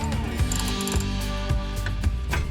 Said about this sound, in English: So I'm really hoping that this ratcheting crescent makes things a little bit more smooth.